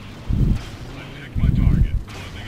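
Spaceship weapons fire in the space combat game Freelancer, two heavy booming bursts about a second apart over a steady low rumble, with a person talking.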